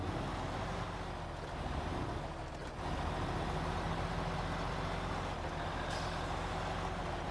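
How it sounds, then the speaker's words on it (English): Truck on a roadway, close and loud, with a deep engine rumble, an air-brake hiss and brief traffic sounds, with no talk. "at least it sounds like a truck"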